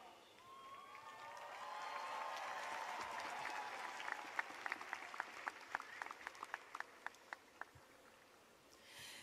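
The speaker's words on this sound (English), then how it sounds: "I will ask the members of the audience associated with that college to rise and applaud the candidates" Audience applause at a Rice University commencement ceremony, a steady wash of clapping from a large seated crowd that thins into scattered individual claps near the end.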